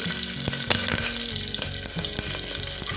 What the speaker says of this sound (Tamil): கடுகு பொறிஞ்சிருச்சு பச்சை மிளகா போட்டுக்கலாம்